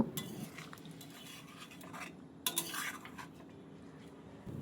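Spiced mashed potatoes with a little water are stirred in a pot for Mughlai aloo dum, giving faint scraping and light utensil clinks against the pot, with a brief louder clatter midway; no one speaks.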